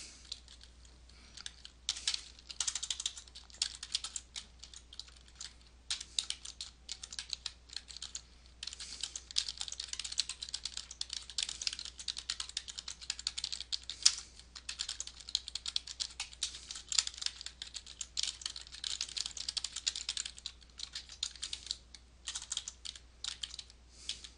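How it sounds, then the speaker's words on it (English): Steady, fast typing on a computer keyboard, close and clear, with a continuous patter of light key clicks and a few brief pauses, and no voices. "I'm just kind of typing in what's already here"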